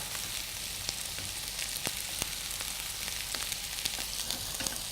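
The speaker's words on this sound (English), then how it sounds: "Now I want to bring that to a simmer because you want those flavours to really start to meld together." Satay sauce bubbles in a pan as it comes to a simmer. The close, crackly sizzle stays steady, broken by scattered sharp pops and spits, with no voices.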